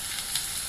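Onion, tomato and ginger-garlic paste fry together for a pav bhaji base, giving a brief, even hiss of sizzling that stays close and steady with no voices.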